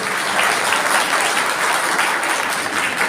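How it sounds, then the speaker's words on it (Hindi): An audience at a Brahmin community introduction gathering in Indore gives sustained applause, a dense even wash of clapping at steady loudness throughout. "ताली ऐसी बजाओ कि लगे कोई बैठा है।"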